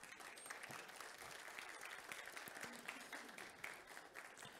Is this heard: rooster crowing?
no